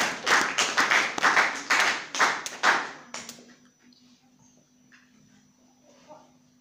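A church congregation claps in a fast, loud, rhythmic burst of handclaps for about three seconds, then falls quiet, leaving a faint hum and murmuring voices.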